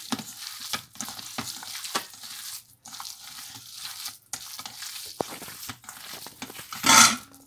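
Raw hamburger meat being kneaded by hand with parsley, giving repeated soft squelching, crinkly mixing noises close by with brief pauses, ending in a louder burst of handling.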